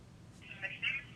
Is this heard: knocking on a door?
no